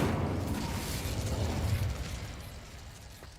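Incendio fire spell cast in Hogwarts Legacy on PC, a loud roaring burst of flame at the start that sustains briefly and then fades into a softer crackling tail.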